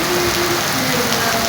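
Heavy typhoon rain pours down in Alabang, a loud, dense, continuous hiss of water hitting surfaces nearby, with no talk over it.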